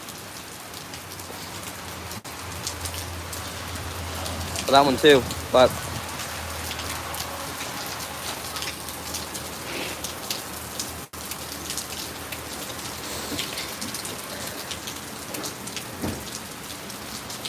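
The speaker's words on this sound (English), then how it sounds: "the rain has let up a ton. It's still raining" Steady rain falls in a storm while easing off, a continuous hiss throughout, with a brief louder burst and a voice speaking over it.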